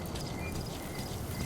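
Horse hooves clip-clop steadily in Metal Gear Solid V, a soft, continuous trotting patter heard faintly under a hissy background with no talk.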